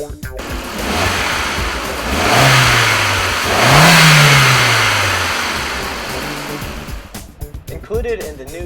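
A Volkswagen MK4 Jetta 1.8 turbo engine revving under load, rising in two loud swells over a steady idle before dropping back, heard close up.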